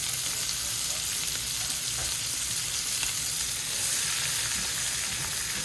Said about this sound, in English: we're gonna go ahead and add in our vegetable mixture. That's 3 cups of onions, a handful of carrots, and I think it was 3 stalks of celery